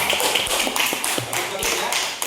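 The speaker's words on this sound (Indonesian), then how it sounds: "Bagi tepuk tangan dulu." Students in a classroom give a round of applause, scattered quick claps with uneven rhythm and light voices mixed in nearby.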